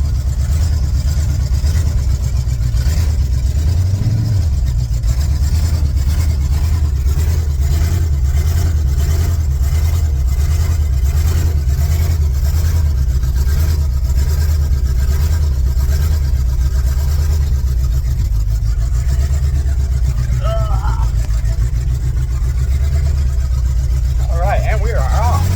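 A 1982 Chevrolet C10 pickup's engine drones steadily and loudly from inside the cab while driving through a neighborhood, with a brief surge in revs, and someone talks over it.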